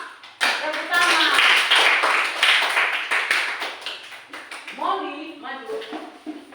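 Children in a classroom clap together, a short loud burst of hand claps that tapers off, with a voice and other voices speaking alongside and after.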